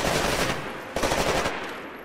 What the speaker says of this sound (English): Switch to your rifle. Ooh, assault rifle.